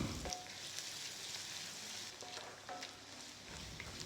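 Crushed garlic, ginger, curry leaves and shallots frying in hot sesame oil for Madurai-style chicken sukka: a soft, continuous sizzle with faint crackles and occasional stirring, quiet and close, with no voices.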